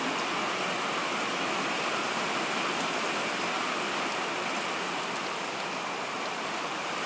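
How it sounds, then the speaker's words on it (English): Steady rain falls outdoors on a wet Saturday in Custer, Washington, near the Canadian border, making a dense, even hiss that never lets up, with no voices. "It's raining."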